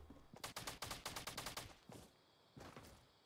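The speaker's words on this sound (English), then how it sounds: "I just hear like mad SMG shots going off." SMG fire in a video game: a rapid burst of about a dozen sharp automatic shots, followed by two shorter bursts after a pause, quiet and slightly distant, with no talk.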